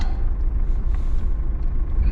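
A four-wheel-drive car crawls through a ditch near an abandoned uranium mine town in Queensland, with a heavy, steady low engine rumble and rough road noise throughout, close and unbroken.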